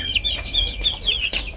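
A chicken clucks close by in a household yard, giving a few short, scratchy calls in a loose rhythm over steady low background rumble, with no talking.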